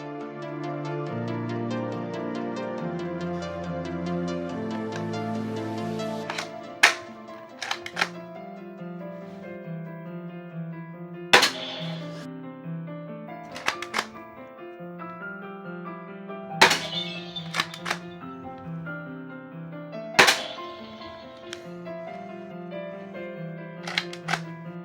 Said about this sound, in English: Let's get to some ruby dart shooting.